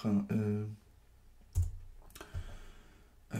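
A few separate computer keyboard keystrokes clicking at irregular intervals, quiet and close, after a brief bit of voice at the start.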